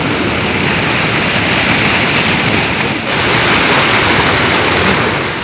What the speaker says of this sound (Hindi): बहुत ज़्यादा बारिश पड़ गई है पहाड़ों में, पानी बढ़ रहा है नदी में।